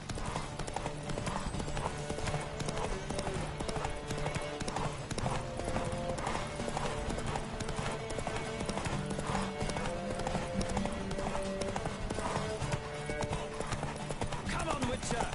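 Galloping hooves from a Witcher 3 video game horse race keep up a continuous rhythmic clip-clop under a voice and game music throughout.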